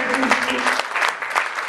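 A church congregation applauds steadily and loudly throughout, with voices mixed into the clapping.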